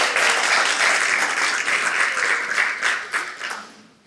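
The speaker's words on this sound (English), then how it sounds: "So let's do a big round of applause for 4 years of Inspired Leaders" A crowd at a leadership event's four-year celebration breaks into dense, lively applause that stays full for a few seconds and then tapers off to quiet.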